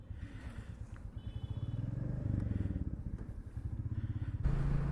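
A motorcycle idling and pulling away at the start of a long-distance road trip, its steady engine thrum loud and close, with the revs rising near the end.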